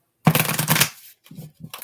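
Tarot cards being shuffled in a quick riffling burst, then two short softer shuffles follow; close and clear, no talking.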